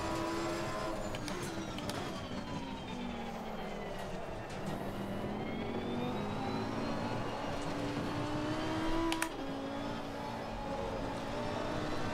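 A Lamborghini Huracan Super Trofeo race car accelerates through the gears in the Assetto Corsa Competizione racing game, its engine note rising and dropping in long sweeps, loud and continuous without any talking.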